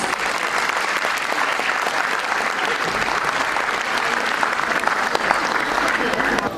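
A large audience of parents applauds student presenters at a school class presentation, a dense, steady wash of clapping that fills the whole stretch without pause.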